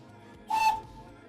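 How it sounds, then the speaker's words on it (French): Steam locomotive whistle on the Couillet engine of the Thur-Doller tourist railway in Alsace: one short, bright, shrill blast of about a third of a second that rises over a low background rumble, then fades quickly. "Petit coup de sifflet. Dernier coup de sifflet de la journée."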